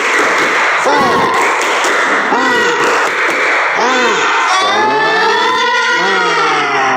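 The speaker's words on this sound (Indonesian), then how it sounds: "Tepuk semangat." A classroom of students claps and shouts a spirited cheer together, loud and energetic, with bursts of claps and rising, swooping voices filling the room.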